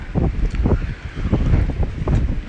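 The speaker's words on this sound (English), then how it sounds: "And it's extremely windy." Strong gusts buffet the microphone at the end of Southport pier, the second longest pier in the UK, producing loud irregular low rumbling bursts of wind noise.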